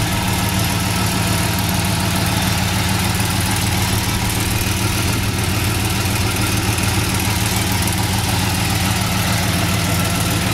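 A 1970 Chevrolet Monte Carlo V8, freshly tuned with new plugs, idles steadily and evenly close by, a deep continuous rumble with no voices over it.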